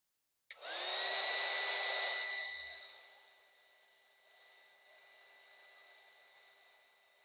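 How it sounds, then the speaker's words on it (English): A hair dryer switches on abruptly and blows steadily over a watercolor painting, a loud whooshing roar with a high whine that drops to a quieter, steadier hum after a few seconds, with no talking. "we're going to use the dryer because we are actually almost done."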